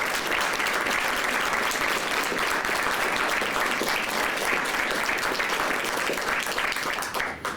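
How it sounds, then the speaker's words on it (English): A large crowd gives loud, continuous applause at a Chicago press briefing on the citywide effort around the Democratic National Convention, a thick roar of clapping that holds steady for over seven seconds before easing slightly at the end. "Let's give him a nice warm round of applause"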